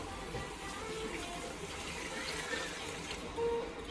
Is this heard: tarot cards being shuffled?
no